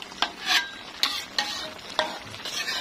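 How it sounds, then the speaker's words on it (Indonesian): Water spinach (kangkung) stir-fried in a pan, with four or five sharp scraping strokes of a utensil against the metal over a faint background sizzle, close and fairly loud, no talking. "Tumis kangkung, guys."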